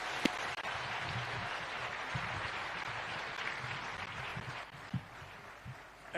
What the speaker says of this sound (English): I request all of you to be upstanding and help me with applause to welcome the President of the Republic of Kenya, Dr. William Samoei Ruto.